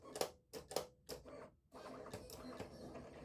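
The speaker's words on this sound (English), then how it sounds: "We can watch for just a minute or two as the Silhouette Cameo 5 cuts each of these pieces in exactly the right spot" A Silhouette Cameo 5 cutting machine cuts vinyl on an adhesive mat, giving a close series of rapid mechanical whirring bursts and pauses, then a steadier motor hum with repeated short clicks.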